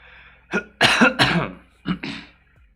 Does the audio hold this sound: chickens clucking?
no